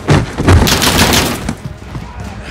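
Loud, close bursts of rapid gunfire from Call of Duty: Modern Warfare (2019), a fusillade with booming shots crowding the first second and a half before fading into quieter echoes.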